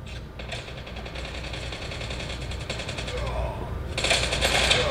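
Rapid automatic gunfire in Call of Duty Mobile, rattling bursts that build louder toward the end, with a voice talking over the shooting.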